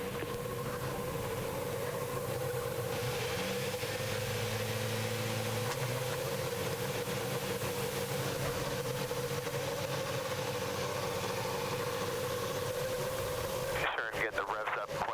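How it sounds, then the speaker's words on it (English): IndyCar race cars on the grid at Kentucky in 2011 after the command to start engines: a steady, loud mass of idling engine drone running throughout, with radio chatter over it and a sudden burst of noise near the end. "Drivers, start your engines."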